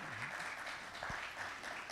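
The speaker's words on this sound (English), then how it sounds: "let's do a last round of applause for him as he comes up stage" Audience applause at a business ecosystem event's opening and keynote session, steady dense clapping filling the whole stretch with faint voices underneath.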